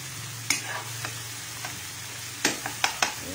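Pechay and tomato sautéing in olive oil in a pan, a soft steady sizzle with several sharp scraping stirs of a utensil against the pan, close by and without talk.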